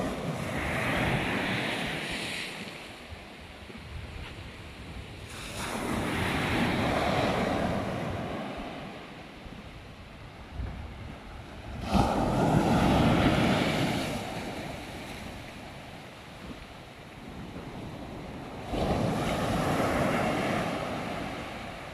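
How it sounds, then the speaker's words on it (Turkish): Strong bora wind roars across open sea, swelling and fading in long surges as waves wash beneath, with heavy buffeting on the microphone. "Bora yapıyor, bora bora."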